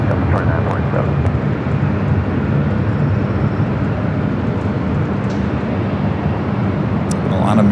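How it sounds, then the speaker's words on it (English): An Airbus A321neo jet at LAX airport produces a steady, loud, broadband engine roar that fills the whole stretch, constant and close, while a voice talks faintly underneath. "It's an A321neo now lining up."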